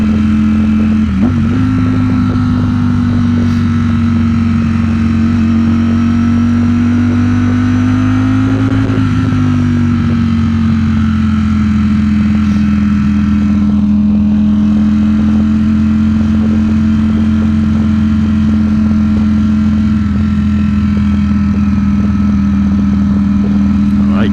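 A motorcycle engine runs with a steady low drone and a slight rev rise and dip, loud and close, continuing without talk for the whole stretch.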